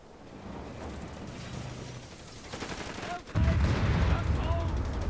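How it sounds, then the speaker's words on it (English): Gunfire from Company of Heroes 3 on an Italian invasion beach with artillery present, dense bursts of shots and explosions rumbling under a speaking voice, growing louder and heavier midway through. "Get him front on so he can machine gun."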